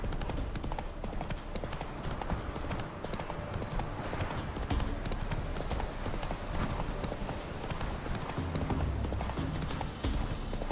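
The horse Roach gallops in The Witcher 3, hooves pounding in a fast steady clip-clop rhythm, loud and continuous throughout without pauses.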